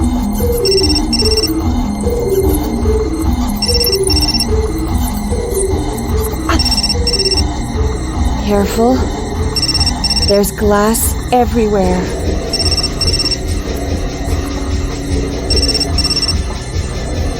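A phone rings repeatedly in the video game Still Life 2, with a steady series of electronic trills over game music and occasional speech.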